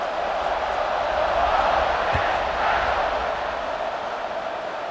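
Stadium crowd roaring in EA Sports College Football 26 before a kickoff, a dense sustained wash of cheering noise holding steady throughout, with one brief low thump partway through.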